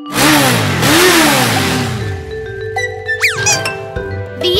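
Cartoon-style motorcycle engine revving hard, a loud rising and falling roar up close that fades into playful musical chimes and sound effects, with no talk.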